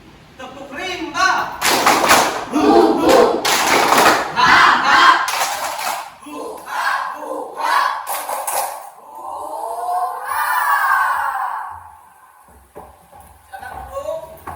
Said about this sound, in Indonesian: Tepuk rimba.